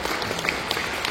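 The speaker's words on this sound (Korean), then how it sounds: "소개 박수 한번." A live audience at a panel forum claps in welcome as a panelist is introduced. The applause is a brief, steady burst of many hands with no voices over it.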